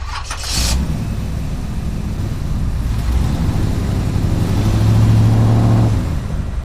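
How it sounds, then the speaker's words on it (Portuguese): A car engine starts with a sharp crank, then settles into a steady mid-pitched rumble that swells as the vehicle accelerates down a road at night, loud and close, with no talk. "o carro na minha frente ligou e começou a acelerar através da estrada"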